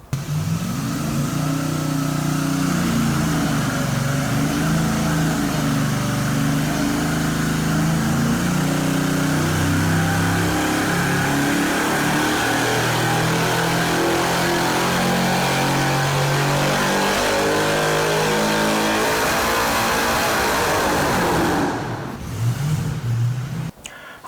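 A junkyard LM7 5.3-liter LS V8 with its stock cam runs on a dyno, climbing through a long, loud, steady rev whose pitch slowly rises. Near the end it drops sharply, then picks up briefly again.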